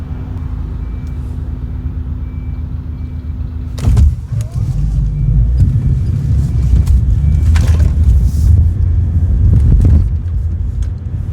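A car zooms down a street, starting as a low rumble that swells into a loud, rough roar with sharp bursts partway through, close and dominating.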